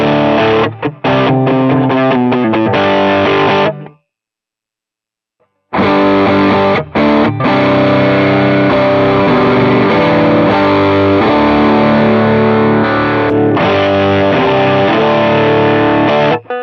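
Distorted electric guitar through a Line 6 Helix 3.50 updated cab with a boost on, loud sustained chords and riffs with a short silent pause midway before playing resumes.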